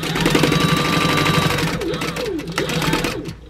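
A sewing machine top stitches fabric beside clear vinyl, running steadily with a fast mechanical whir and rapid needle chatter, then slowing and stuttering in short bursts near the end.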